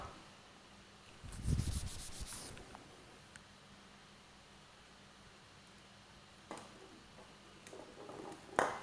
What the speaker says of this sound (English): I'm charging my PVC rod. I'm transferring electrons to the PVC rod.